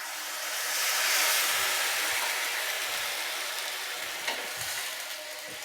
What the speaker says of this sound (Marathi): तर ह्याच्यात आपल्याला पाणी घालून घ्यायचं.